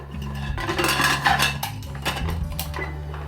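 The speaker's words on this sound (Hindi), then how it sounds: "तो अब इसी समय पे हम कुकर का ढक्कन लगाएंगे।" A pressure cooker lid is fitted onto the cooker, with its whistle and rubber gasket removed, while an eggless whole wheat banana cake bakes inside. Metal clanks and scrapes come close and steady over a low hum, loudest in the middle.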